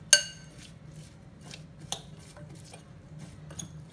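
Onion salad with red chili and black pepper being mixed in a bowl: light clinking of a spoon against the dish, a sharp tap at the start and scattered taps and stirring scrapes after it, fairly quiet.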